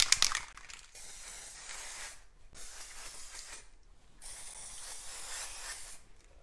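A spray paint can fitted with a fresh cap sprays blue paint in three long hissing bursts separated by short pauses, the first opening with a sharp rattling click, close and fairly loud.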